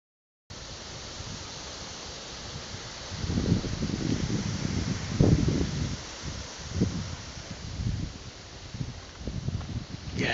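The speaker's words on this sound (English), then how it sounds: "It's a windy day at the beach" Strong wind buffets the microphone outdoors at Kenai Beach, with gusty bursts of rushing noise that swell and fade.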